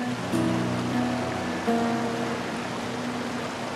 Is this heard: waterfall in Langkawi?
yes